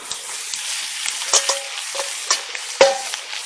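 Potatoes fry in a lightly greased Dutch oven at breakfast outdoors, a steady close sizzle broken by a few sharp clinks and scrapes of stirring.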